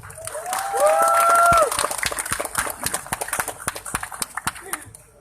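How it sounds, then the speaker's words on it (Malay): A crowd at a Pejuang party rally announcing its Slim by-election candidate applauds Seremban assemblyman Anthony Loh, with a steady patter of clapping and a few whoops or whistles rising early, then scattered claps tapering off. "Tuan-tuan dan puan, berikan tepukan kepada Yang Berhormat Seremban Tuan Anthony Loh."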